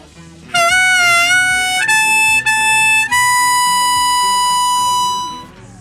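A harmonica plays a sustained 4 draw from a Polygondwanaland tutorial, King Gizzard & The Lizard Wizard's song. The bright, loud reedy tones bend and step through a few held notes before slowly fading out.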